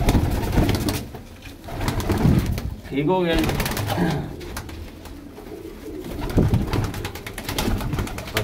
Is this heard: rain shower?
no